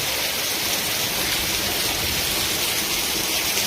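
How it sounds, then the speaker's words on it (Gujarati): Heavy night rain pours down in Palitana, a dense, steady hiss and roar with no break, loud and close. "રાત્રિમાં ભવ્યથી ભવ્ય વરસાદ"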